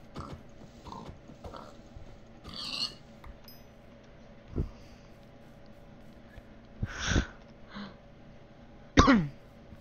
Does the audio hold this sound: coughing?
yes